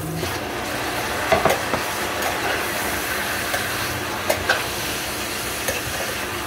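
Chicken pieces being added to a pan of browned onion and garlic and sautéed for adobo, giving a steady sizzle with occasional clinks and stirring scrapes from a utensil.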